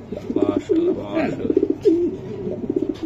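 Close, repeated coos of racing pigeons in rolling bursts, several calls in a row with short pauses between.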